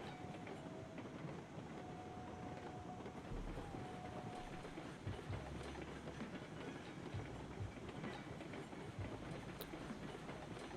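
A locomotive on the Lake Chama & Pacific Railroad runs along the tracks with a continuous rumbling roll and faint rhythmic clatter, steady and close, no voices.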